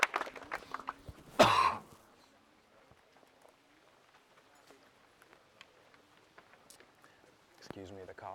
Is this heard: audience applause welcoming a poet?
no